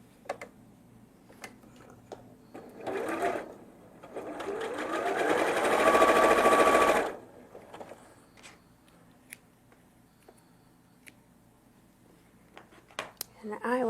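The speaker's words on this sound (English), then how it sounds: "I'm going to sew my backgrounds on" A sewing machine stitches quilt background fabric pieces in one steady whirring run of about four seconds, preceded by a shorter burst, with faint ticks and handling noises before and after.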